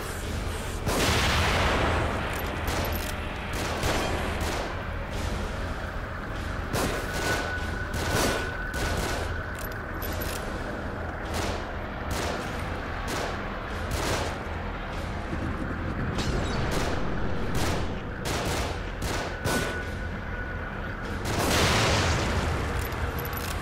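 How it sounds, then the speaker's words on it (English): Repeated gunfire from an elevated position in The Evil Within, a dense run of sharp shots and heavy booms in steady bursts over a rumbling background, loud and continuous throughout. "Shooting from above."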